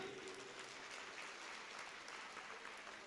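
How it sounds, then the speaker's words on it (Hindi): A hall audience at a Hindi comedy and poetry show breaks into sustained applause. The clapping holds steady from start to finish, with no voices over it. "तालियां आपने पहले ही बजा दी"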